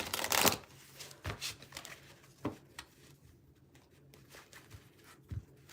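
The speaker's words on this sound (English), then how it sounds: "So I've got the first 3 decks shuffled." Decks of playing cards are shuffled in a quiet room, giving soft riffling bursts and scattered papery taps spaced irregularly, close and faint, with no voices.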